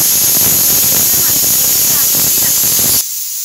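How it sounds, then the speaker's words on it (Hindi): A pressure cooker taken off a gas stove after four whistles vents its steam in a loud, steady rushing hiss that continues for about three seconds, then cuts off abruptly to a quieter background. "चार सीटी के बाद कुकर गैस से उतार लेते हैं और उस पर कढ़ाई रखते हैं, इसका प्रेशर निकलने देते हैं"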